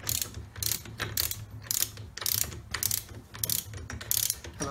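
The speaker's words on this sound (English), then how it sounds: "then you put your socket on the nut, like so, and then we can just wind the nylon nut on" A socket ratchet winds a nylon nut onto a Land Rover transfer box centre diff flange in quick rhythmic bursts of clicking, close and clear, with brief pauses between each swing of the handle.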